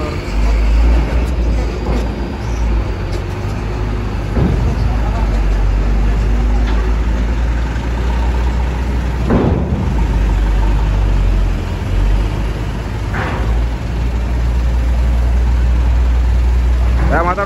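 Motorcycle engines idle and rumble amid steady traffic at Merak ferry port, with passing vehicles swelling briefly over a constant low engine drone.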